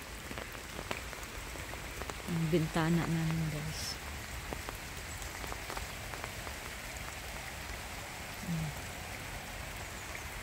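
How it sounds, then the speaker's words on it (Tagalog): Steady heavy morning rain pours and patters on surfaces throughout a garden in the Netherlands, with a person speaking briefly partway through over the downpour. "Grabe naman ang ulan dito"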